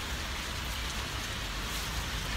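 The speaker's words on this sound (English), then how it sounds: "It's raining." Steady rain patters continuously on a surface, a soft even hiss with no voices.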